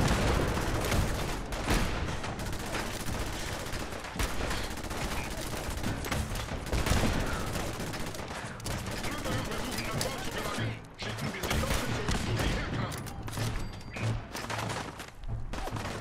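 Dense, rapid booming cannon fire from a Fallout 4 battle aboard the Constitution, constant barrages of blasts layered over each other, loud throughout with a voice faintly underneath.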